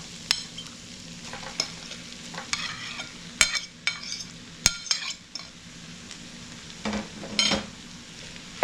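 Mashed potato being mixed into softened vegetables in a pan, irregular scraping and clinking of a spoon against metal over a low sizzle, close and clear, no talking.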